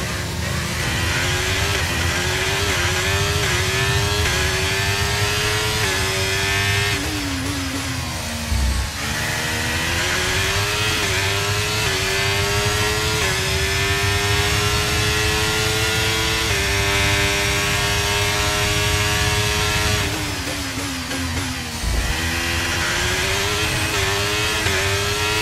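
A Ferrari Formula 1 car in F1 2023 at the Singapore Grand Prix screams loudly and steadily at high revs, with shift dips and rising pitch sweeps through each gear, close and continuous.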